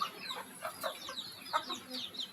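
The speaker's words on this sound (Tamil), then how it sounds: "கோழி பண்ணி வச்சுருக்காங்க." Several chickens on a farm cluck and murmur nearby in short, overlapping calls, with a faint background hum and no talking.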